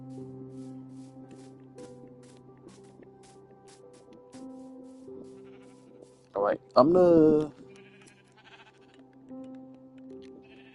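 A Minecraft sheep lets out a loud, close bleat, a short wavering call in two bursts that rises above soft background game music, with a brief spoken word nearby.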